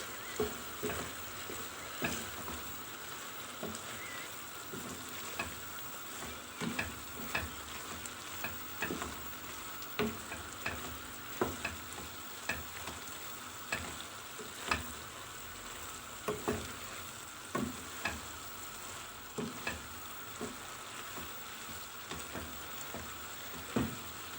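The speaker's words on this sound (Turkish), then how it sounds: "Bir tatlı kaşığı tuzumuzu, karabiberimizi, kimyonumuzu ilave ediyoruz. Ve güzelce karıştırıyoruz." Green beans sautéing with salt, pepper and cumin are stirred in a pan, a steady soft sizzle broken by regular scraping strokes of the spoon, fairly quiet and close, with no voices.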